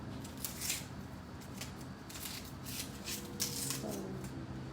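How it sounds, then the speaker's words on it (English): Dry papery onion skin being peeled off by hand in a home kitchen, a series of soft crackling rustles and tears close to the microphone. "so I'm just peeling off this onion"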